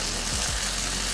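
Tomato and tamarind sautéing in a pan give a steady, close sizzle and frying hiss with a couple of soft stirring scrapes early on; no one speaks.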